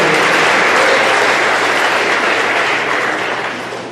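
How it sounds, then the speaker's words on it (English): Dense, steady applause from an audience at an athletics awards ceremony, loud and continuous, tapering slightly toward the end with no talk over it. "Give another round of applause."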